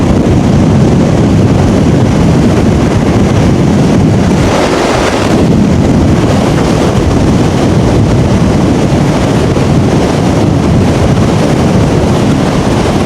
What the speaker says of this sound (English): See what we can get with the crosswind.